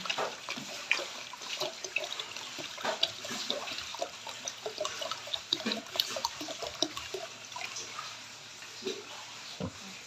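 Water pouring from an electric air pump thermos, a continuous close trickling splash with small gurgles, steady throughout and fairly soft.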